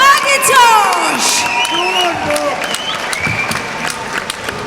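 Crowd applause with cheers and whoops fills a boxing night at Fife Ice Arena as Craig McIntosh is announced, steady and loud throughout, with an announcer's amplified voice over it.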